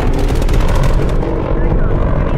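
Helicopter in Black Ops Cold War, a loud, close rotor thrum with a rapid steady chopping pulse over dense low rumble, continuous throughout.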